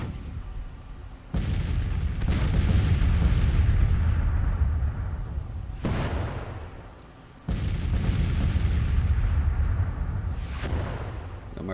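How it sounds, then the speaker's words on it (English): Heavy artillery booms in a Grand Tactician: The Civil War battle, three big blasts with long rumbling decays rolling one after another, loud and up close with no talk over them. "My artillery does look like it's going to be slightly useful this battle."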